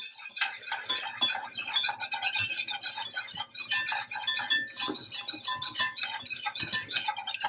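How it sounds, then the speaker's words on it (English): A whisk beating steadily in a pan as flour is sprinkled into the drippings for a simple gravy, giving a busy, continuous scraping and clinking that stays close and fairly loud throughout. "I'm going to actually whisk in some flour"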